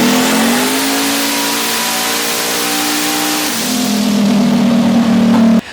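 A Chevrolet LS V8 engine revs on a dyno with a backwards-facing intake setup, holding a loud, steady high-rpm howl that dips slightly midway and then settles at a lower pitch before cutting off.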